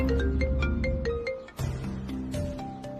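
A mobile phone ringtone sounds inside a car while someone is driving, a chiming melodic tune playing over a dense musical background, steady and fairly loud throughout.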